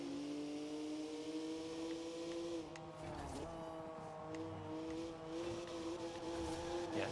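A Ford Capri drives in the video game Forza Horizon 4 with traction control off. Its steady, droning engine note briefly dips and then climbs back, with faint tire noise in places and no talk over it.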